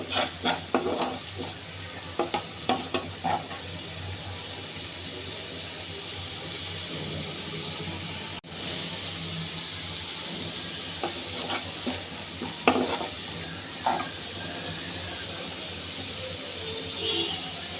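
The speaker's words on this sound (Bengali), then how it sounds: "আদা, রসুন এবং পেঁয়াজ বাটা একসাথে 3 টেবিল চামচ। এটাকে ভালোভাবে ভেজে নেব।" Ginger, garlic and onion paste fries in a pan with a steady low sizzle, broken by scattered scraping stir strokes near the start and again toward the end.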